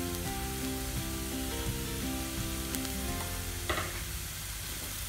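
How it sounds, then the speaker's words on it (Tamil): Ginger and garlic frying with onions in a pan, a continuous close, dense sizzle with light stirring clicks and a brief louder crackle near the end. "இப்போ நம்ம எடுத்து வச்சுருக்க பூண்டும் இஞ்சியும் அதில் ஆட் பண்ணிடலாம்"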